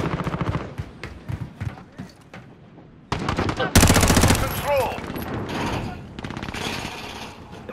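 Rapid automatic gunfire in the video game Call of Duty rattles in dense bursts, sparser at first, then louder and more sustained in the second half, mixed with game sounds and occasional voices.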